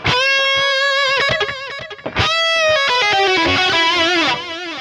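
Electric guitar played through an STL Tones amp-sim preset with a delay effect, distorted notes and chords repeating and trailing off in echoes, loud and continuous with a short gap midway.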